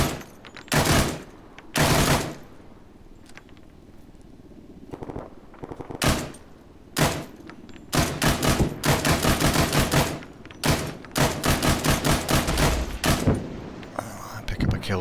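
Bursts of PKP Pecheneg machine-gun fire in ARMA 3, loud and close, with short strings of rapid shots broken by pauses that lengthen into sustained volleys toward the end.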